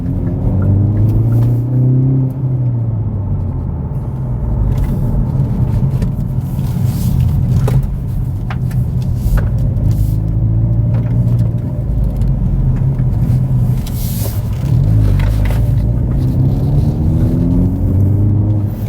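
A 2019 Hyundai Veloster N with a six-speed manual drives at highway speed, a loud continuous engine and road roar with tonal drone rising and falling gently throughout.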